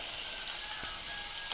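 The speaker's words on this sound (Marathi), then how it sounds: "तर आता आपण हा मिक्सरला बारीक केलेला कांदा ह्या तेलात टाकून घेतलेला आहे." Blended onion drops into hot oil in a pan and sizzles with a constant bright, hissing crackle, close up and steady, with a faint stir or clink near the end.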